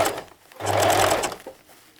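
A sewing machine runs a short back stitch on a small handbag, one steady close burst of stitching lasting under a second, with quieter handling before and after.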